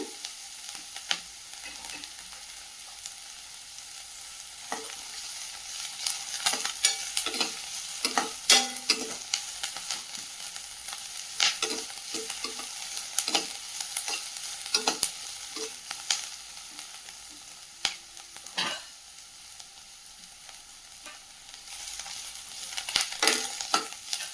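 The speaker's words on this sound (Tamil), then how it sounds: "நல்லா வதங்கி வரட்டும்." Ingredients sauté and sizzle in a pan for a green chicken curry, with a constant frying hiss broken by repeated spatula scrapes and clinks as they are stirred; no talking.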